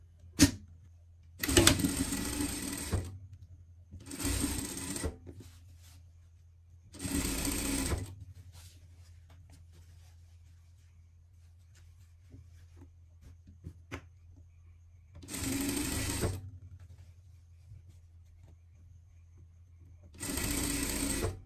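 A sewing machine hems a dress in five separate whirring bursts of one to two seconds each. Long quiet gaps with a low hum fall between the bursts.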